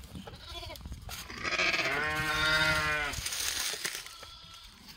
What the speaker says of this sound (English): Come on, little sheep.